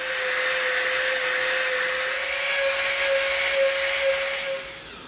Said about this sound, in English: now we're going to get out our Dremel and our dust mask and we're going to round off the top and the bottom of this piece